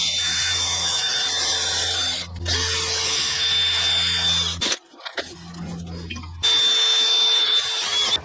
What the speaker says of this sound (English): I'm going to use a little wire wheel again on the drill